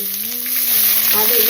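Close, steady sizzle of onions frying in hot oil, a dense crackling hiss with a low hum underneath and no talking.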